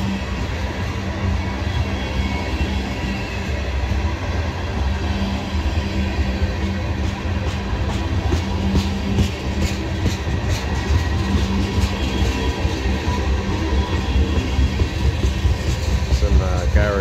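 A CSX freight train rolls past on the old B&O mainline: a steady, loud, continuous rumble of cars and wheels on rail, with faint rhythmic clicks from the track joints. Someone speaks over it.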